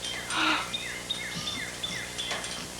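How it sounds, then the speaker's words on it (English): Several short, high chirping bird calls repeat in quick succession, fairly clear over a steady outdoor background hum. "I heard a bird."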